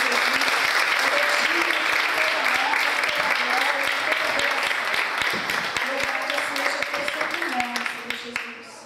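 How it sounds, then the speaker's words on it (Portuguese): A church congregation in Brazil claps in sustained, dense applause, loud and steady for several seconds before tapering off at the end, with a voice speaking over it. "Dê uma poderosa salva de palmas para o nosso Pai."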